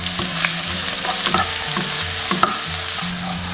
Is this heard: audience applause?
no